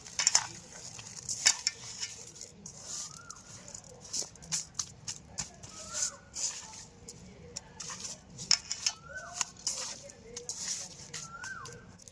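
Sugar and black salt being stirred and mixed by hand into a roasted raw mango drink in a village kitchen: irregular soft scraping and clinking taps with utensil contact, close by, with occasional bird chirps in the background.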